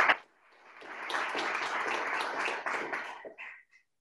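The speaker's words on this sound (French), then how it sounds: "Merci Sophia, on t'applaudit." A webinar audience applauds Sophia after her talk on COVID-19 and business, producing a few seconds of steady, moderately loud clapping that swells and then fades to a couple of trailing claps.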